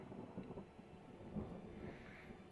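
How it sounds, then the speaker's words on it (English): Rolling thunder from a storm at sea in the naval strategy game Ultimate Admiral Dreadnoughts rumbles low and faint, with a few soft swells and no talking. "And, of course, it's a storm."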